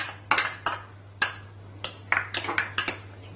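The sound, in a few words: low-fat yogurt being put into a mixing bowl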